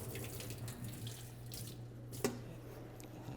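Water running and splashing as soaked potatoes are drained in a kitchen for a vegetable soup, a steady faucet-like trickle with a brief clatter near the end, heard alone at low level.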